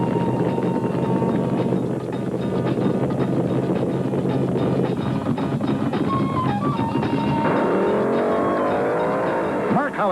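Top fuel drag racing cars at Rockingham Dragway during a 1975 meet, a loud continuous engine roar with wind buffeting, rising into a sweeping pitch change near the end as a car passes.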